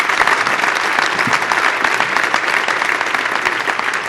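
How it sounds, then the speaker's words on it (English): Loud, dense audience applause fills the whole stretch without a break, a large crowd clapping steadily at a Major League Soccer All-Star Game announcement event. "Big round of applause for that."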